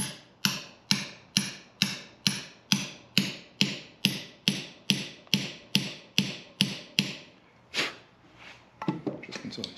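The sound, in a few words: tapping parts into cylinder heads with a socket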